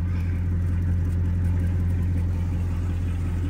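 A truck engine idles steadily while warming up in the snow, a continuous low, even rumble heard close up with no talking.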